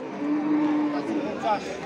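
At a rainy cattle market, a cow gives one short, drawn-out low moo, fairly near, followed by a brief higher call amid faint background murmur.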